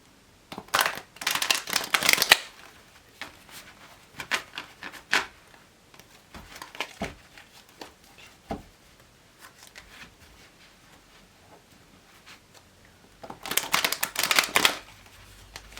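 Tarot cards are shuffled in bursts of dense crisp riffling near the start and again near the end, with scattered softer card taps and handling sounds in between, close and clear without talk.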